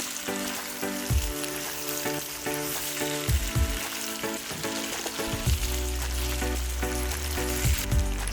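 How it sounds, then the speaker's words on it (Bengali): Pieces of fried beef sizzle steadily in a thick sauce for Beef Chaap Masala, a constant loud frying hiss broken by repeated low thumps and scrapes of stirring. "গরুর মাংসের ভাজাগুলো সসের সাথে ভালো করে ভেজে নেব।"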